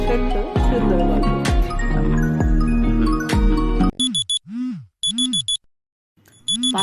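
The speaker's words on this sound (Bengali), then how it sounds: "5টার সময় অ্যালার্ম দিয়েছিলাম ঠিকই" An alarm clock goes off at 5 am. It rings in repeated bursts of bright electronic tones with short gaps, after a few seconds of dense, music-like sound.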